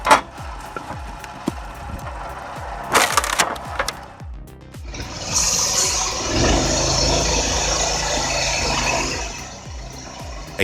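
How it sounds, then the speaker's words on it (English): A firewood processing machine splits logs with repeated woody cracks and splintering snaps, then a loud engine-driven roar and grinding takes over and runs steadily to the end. "A combination that makes splitting logs easier and faster than ever."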